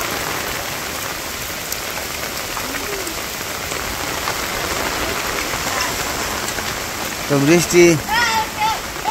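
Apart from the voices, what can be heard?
rain falling while walking with umbrella in village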